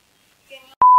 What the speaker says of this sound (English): Mom's calling me.